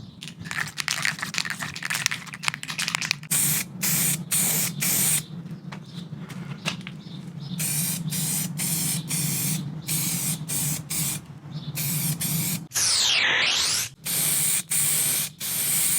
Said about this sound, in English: There is a lot of this, it is spraying.